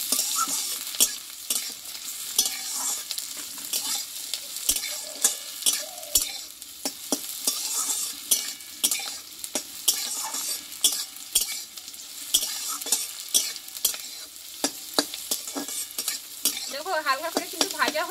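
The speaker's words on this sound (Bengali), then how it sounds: "দেখো হালকা করে কিন্তু ভাজা হয়ে গেছে রসুন পেঁয়াজ আর কাঁচা লঙ্কাটা" Onion, garlic and green chili lightly frying in a pan, a continuous close sizzle broken by regular stirring scrapes and spatula taps on the metal.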